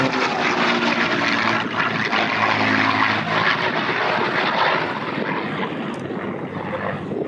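An aircraft passes at the Thunder Over New Hampshire air show, its engine droning as a loud, continuous roar that fades slightly toward the end.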